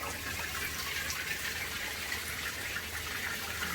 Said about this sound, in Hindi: पानी चला छोड़ दिया मैंने।